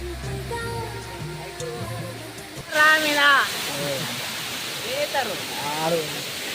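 Gatrapalle waterfall rushes in a loud, steady hiss that swells up after a quieter start, while people speak over the roar.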